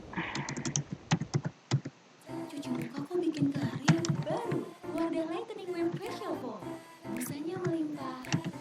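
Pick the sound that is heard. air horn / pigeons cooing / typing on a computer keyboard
typing on a computer keyboard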